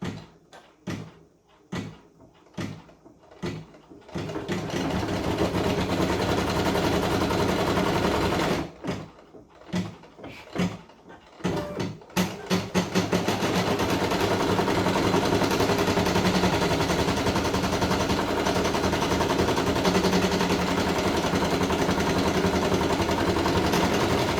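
An embroidery machine stitches an elephant lovey design onto hooped fabric: a few sharp, spaced mechanical clacks at first, then a steady, loud, continuous rattling whir that runs to the end.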